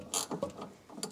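Bolt being tightened on a Volvo 240 anti-roll bar, a few quiet ratcheting clicks and mechanical ticks from a hand tool, close and faint, with no talking.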